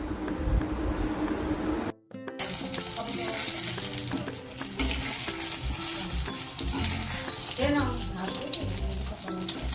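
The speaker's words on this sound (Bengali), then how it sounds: "এবার কড়াইতে বেগুনটা ভেজে নেব, পরপর এক এক করে বেগুন দিয়ে ভেজে ভালো করে তুলে নেব।" Eggplant slices fry in a kadai of oil with a steady, close, crackling sizzle that cuts out briefly near the two-second mark, then resumes continuously with faint clinks and stirring.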